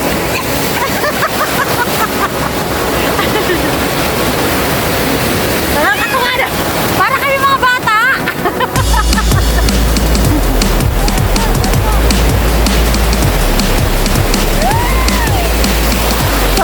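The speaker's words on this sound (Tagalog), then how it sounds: "Malaki ng alon." Loud ocean surf rushing and breaking steadily at a beach at night during a swim, broadband roar throughout with people talking, laughing and shrieking over it.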